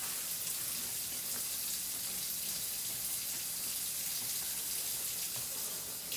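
Running kitchen tap water rinses something out in the sink. The steady, even hiss continues throughout with no talking.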